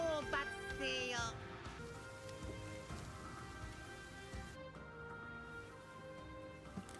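Steady rain hisses through a Demon Slayer anime scene as a dense, even wash of falling drops that holds for the whole stretch, with a voice and some tonal sounds layered over it near the start.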